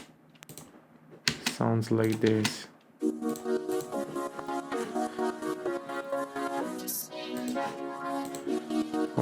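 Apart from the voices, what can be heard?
synth through vocoder effect in FL Studio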